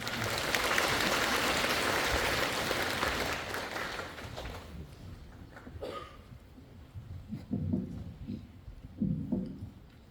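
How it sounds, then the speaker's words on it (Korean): Audience applause welcoming a presenter at a residents' briefing on a redevelopment plan, steady clapping at first that thins out and fades, leaving scattered claps and faint room noise. "우리 문병서 대리님을 박수로 환영해 주시기 바랍니다"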